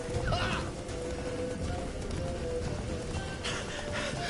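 In The Witcher 3 video game, the horse Roach gallops with a rapid, rhythmic clatter of hooves at moderate loudness over a busy ambient background.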